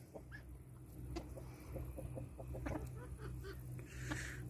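A Barbu d'Everberg rooster clucks softly in scattered bursts at a moderate distance, over a steady low background hum.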